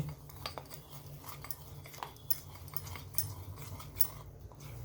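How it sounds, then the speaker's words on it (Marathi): A spoon whisking ghee and cornflour together in a bowl, quick clinking taps and scrapes repeating in an uneven rhythm at close range, fairly quiet, with no talking. "चार चमचे तूप आहे त्याच्यामध्ये चार पाच चमचे कॉर्नफ्लॉवर टाकते आणि इथे असं हे फेटून फेटून मिक्स करून घेते"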